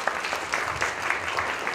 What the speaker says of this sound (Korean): 큰 박수로 영접해 주시면 고맙겠습니다.